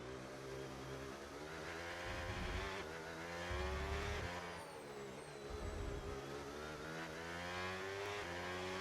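An F1 race car engine in the video game F1 25 howls steadily, its pitch rising and falling as it revs through gears, loud and alone without any talking.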